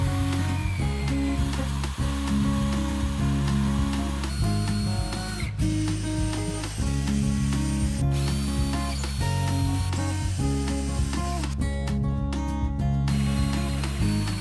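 Workshop noise while the parts of a homemade lathe and disc sander are machined and assembled: a steady motor drone with ratcheting, clicking and tool impacts, including a burst of rapid clatter near the end, with no speech.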